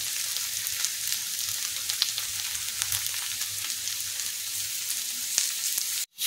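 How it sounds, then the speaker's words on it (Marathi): Okra (bhindi) frying on a tawa gives a steady, close sizzle with soft crackles, continuous and fairly loud throughout before cutting off abruptly at the end. "चरचरीत अशी आपली तव्यातली भेंडी तयार।"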